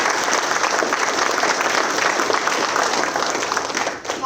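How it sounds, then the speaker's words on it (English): Loud, dense applause from an audience at a national signing day ceremony, welcoming guests; sustained steady clapping that begins to taper off near the end. "Let's give them a round of applause for being here"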